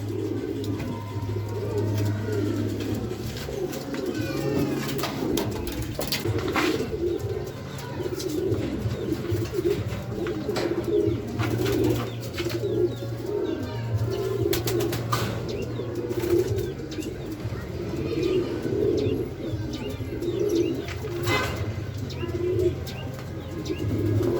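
Racing pigeons coo steadily in low, rolling calls, several birds overlapping close by, with occasional chirps and wing flutters in a busy loft during a derby race in Sorsogon, Philippines.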